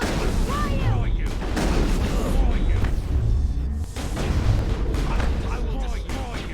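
Grenades explode in the PC video game Mass Effect amid other combat, with repeated booming blasts and gunfire-like bursts. A voice talks over the action.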